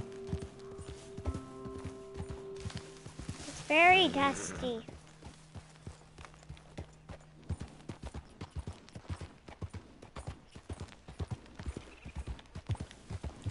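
Horse hooves clip-clopping in the video game Red Dead Redemption, a steady walking rhythm of hoof falls that continues throughout, with a brief whinny near the start and someone speaking briefly over it.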